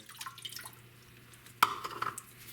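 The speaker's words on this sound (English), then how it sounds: "I've got about a cup of water right here. I'm gonna get that poured in there." About a cup of water tipped into a crock pot, a brief splash and dribble with a couple of small follow-up drips, close and fairly quiet.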